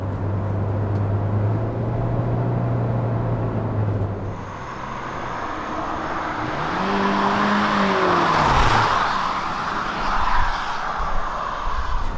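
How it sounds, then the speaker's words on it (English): Steady road and engine drone from inside a 2020 Hyundai Venue subcompact SUV cruising on the highway, a continuous broad rumble with tire noise that swells briefly mid-way, heard alone without talk. "Right now we're driving on the highway with Venue"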